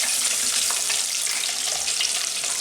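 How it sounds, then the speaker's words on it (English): A batch of chicken wings deep fries in oil at 210 degrees, a loud, dense, continuous crackling sizzle that holds steady without pause, close up and alone. "we'll continue to fry these in batches"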